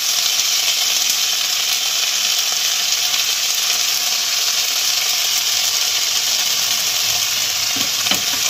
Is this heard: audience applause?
no